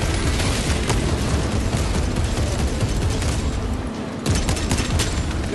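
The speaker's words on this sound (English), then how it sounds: "Deploy frag grenade!" Frag grenade blasts and gunfire in a Warhammer 40K-style video game form a dense, continuous barrage of booms and crackling shots, loud and sustained with a brief dip before resuming.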